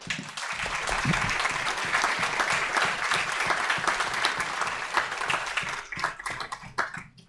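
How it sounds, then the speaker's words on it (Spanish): A lecture audience at an economics talk gives sustained, dense applause that fills several seconds before thinning out into a few scattered claps. "pido un aplauso para ella"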